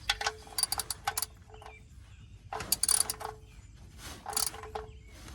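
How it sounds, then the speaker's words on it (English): A ratchet clicking in quick bursts as it tightens the oil pan drain bolt on a 2015 Toyota Highlander during an oil change, with several separate runs of close metallic ticking and quiet gaps between them. "Just tighten it up by hand, and then get your ratchet on it."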